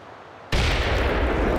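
In the video game Arma 3, after a brief quiet moment, a sudden loud explosion bursts in and keeps rumbling and crackling heavily.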